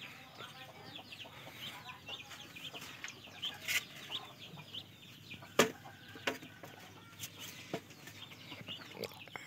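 Muscovy ducklings of a jumbo breed peep in a brooder box, with repeated thin chirps scattered over steady background noise and a few louder bursts, no talk over them.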